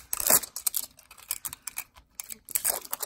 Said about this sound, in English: So I am going to kind of unwrap it since you can't unbox